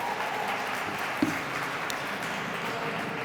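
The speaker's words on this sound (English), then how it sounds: "I want us to clap forever" A crowd at a Trans Day of Visibility rally applauds steadily, with dense, continuous clapping heard at a moderate distance.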